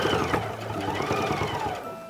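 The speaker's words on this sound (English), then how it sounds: "we are going to stitch all the way around them" A sewing machine hums steadily at close range, stitching around tote bag pocket pieces in a short continuous run.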